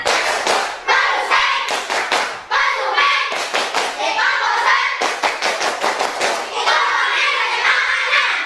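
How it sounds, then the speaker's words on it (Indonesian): A standing class claps through the food chain clapping game as an ice breaker in a school lesson, with rhythmic bursts of group claps and thumps alternating with children chanting and calling out together, close and loud. "Tepuk rantai makanan."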